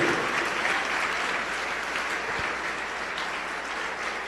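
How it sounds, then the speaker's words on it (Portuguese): A church congregation applauds in a continuous, even wash of clapping that holds steady throughout, with a faint crowd murmur beneath it. "Vamos aplaudir mais o Senhor Jesus."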